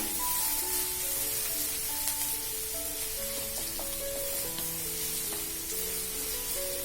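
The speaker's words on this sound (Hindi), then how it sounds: "प्याज ट्रांसपेरेंट हो जाए तब तक आप उसको तल लीजिए।" Chopped onions fry and sizzle steadily in a pan for poha, with a continuous close hiss and some scattered higher tones over it, and no talking.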